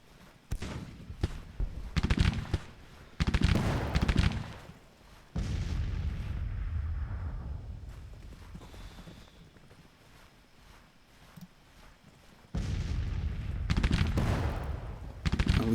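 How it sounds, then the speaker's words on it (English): Rifle volleys fired at charging cavalry in a Civil War battle in Grand Tactician, heard as rolling bursts of gunfire and distant booms in waves, with a quieter stretch between, over a steady battlefield rumble. "This cavalry's about to ride right into my rifles."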